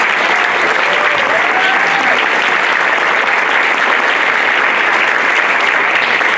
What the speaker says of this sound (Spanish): Un aplauso también fuerte para ella